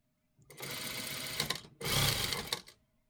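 A sewing machine stitching a knit neckline on a top being converted from a turtleneck to a round neck, heard in two close, steady bursts of rapid mechanical whirring separated by a short pause.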